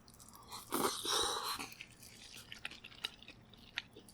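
Crunchy fried honey chicken with tteokbokki being eaten close up, a loud burst of crisp crunching and chewing near the start, then quieter scattered bites and mouth clicks.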